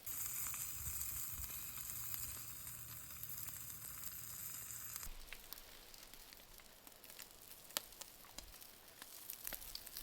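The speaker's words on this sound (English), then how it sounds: "I found that the best way to make this bacon is to cook it over charcoal." Strips of lake trout fish bacon sizzle steadily over charcoal, a soft, even crackle with faint pops, fairly quiet and continuous, with no talking.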